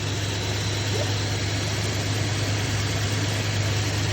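A 1967 Barracuda engine idles after an ultrasonic carburetor cleaning, a steady, continuous low rumble that stays even and fairly loud throughout with no revving.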